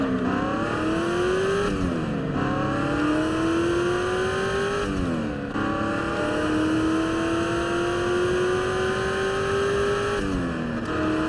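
A car in the Test Drive Unlimited racing game accelerates hard, its engine rising in pitch through gear after gear with short dips at each shift, loud and continuous from start to finish without any talking.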